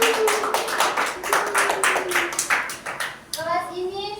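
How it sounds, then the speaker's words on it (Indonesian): A school class claps hands together in a short burst of sharp, fairly quick claps, with children's voices and chatter mixed in around them. "Tepuk tangan."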